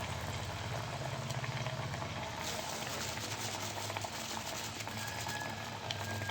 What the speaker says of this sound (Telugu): ఈ విధంగా సిమ్లోనే అన్నీ వేయించేసుకోవాలండి